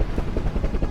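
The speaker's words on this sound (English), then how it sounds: "A helicopter flew to the Alta on October 2nd to bring them some supplies" A helicopter flying as a sound effect gives a loud, close rotor chop with a fast rhythmic thudding pulse over a steady roar, with no voices.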